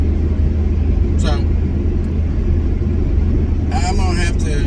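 A 70-horsepower three-cylinder Smart car cruising at about 65 mph on the highway ahead of a 7% grade, with a steady, loud road and engine drone throughout and someone talking over it.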